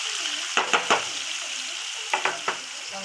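Potatoes fry in oil in a home kitchen pan, a steady loud sizzle with a few sharp stirring scrapes in two clusters.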